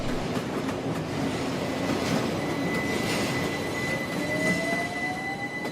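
A train running on the North London Line, a continuous rumbling roll with faint clickety-clack and a thin wheel squeal rising near the end, steady and moderately distant.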